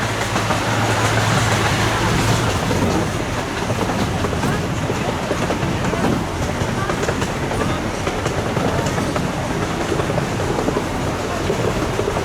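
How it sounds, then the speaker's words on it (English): Amusement park train ride through the trees at Knoebels: a loud, continuous rolling rumble with rattling and clacking from the cars, mixed with wind noise and faint voices. "that train was wonderful all through the trees"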